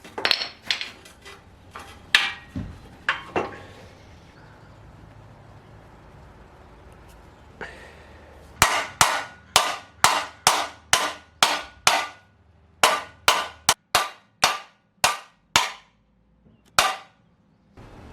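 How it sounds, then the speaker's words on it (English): Sharp metallic hammer strikes ring out, a few scattered blows followed by a long, steady series of loud, evenly spaced hits on metal, hammering a suspension bushing out of a Honda Civic del Sol. "to get this bushing out, all I'm going to do is hammer it out and hammer the new one in"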